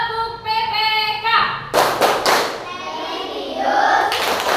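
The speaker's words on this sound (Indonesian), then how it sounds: "kita tepuk PPK biar tambah semangat" A school class stands and performs a rhythmic PPK clapping chant, with sharp bursts of hand claps and thumps among children's voices, while a voice and chanting run through the start.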